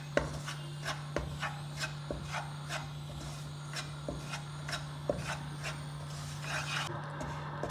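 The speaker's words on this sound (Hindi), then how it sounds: "चम्मच हिलाते हुए मुझे तकरीबन 3 से 4 मिनट हो गए हैं" A spoon stirs gram flour and semolina roasting in a pan, making steady close scraping strokes with regular sharp taps against the pan over a constant low hum; no voices.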